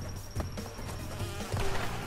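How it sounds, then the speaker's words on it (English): Swarming bees buzz in Crash Bandicoot 2, the Diggin' It level, a wavering insect drone mixed with game effects and brief thuds, moderately loud and continuous. "How do I get rid of those bees?"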